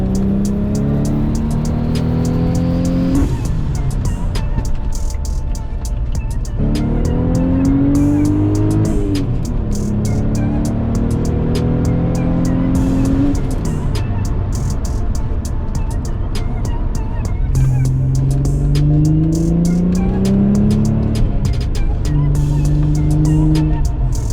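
A loud, tuned Audi S4 engine revs up repeatedly through the gears while driving, rising in pitch with each pull and dropping at every shift, up close.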